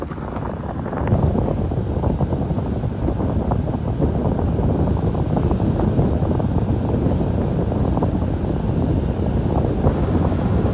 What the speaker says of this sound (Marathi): आवाज फील करा समुद्राचा.